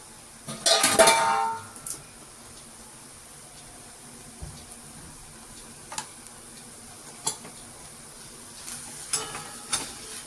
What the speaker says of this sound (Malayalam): ഒരു പച്ച വെളിച്ചെണ്ണ ഒഴിച്ച് 2 കറിവേപ്പില ഇടുന്നു